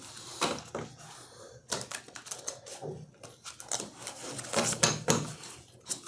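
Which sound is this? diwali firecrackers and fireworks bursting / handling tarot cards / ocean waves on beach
handling tarot cards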